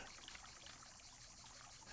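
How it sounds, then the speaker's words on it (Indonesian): A faint, steady rush of flowing river water in the video game Martha Is Dead, continuous and even, with no voices. "Ada suara air."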